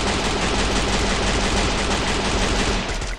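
Rapid, dense video game gunfire in Free Fire rattles without pause, loud and close, like sustained automatic weapons in a firefight.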